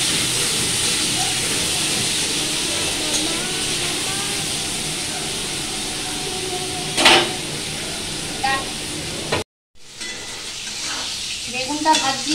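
Bitter gourd frying in a hot pan with steady, close sizzling and occasional stirring scrapes, briefly cut to silence near the end before frying resumes.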